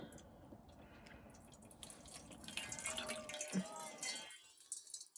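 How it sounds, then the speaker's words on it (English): Water pours and trickles through the small drain holes of a lid over a cup of dehydrated noodles with veggies and meat, a faint splashing stream that swells and then tapers off. "this is like the easiest way to drain the water out"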